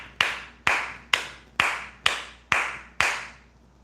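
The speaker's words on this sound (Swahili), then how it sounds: "ebu tumpigie bwanake Njeri makofi" An audience at a TV studio show claps in unison, seven crisp, evenly spaced claps at a steady beat, loud and close, with no talking over them.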